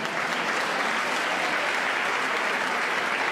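An audience at the Miss Saône-et-Loire 2014 pageant applauds the sponsors, a dense, even burst of clapping from a large crowd that holds steady throughout with no voices above it.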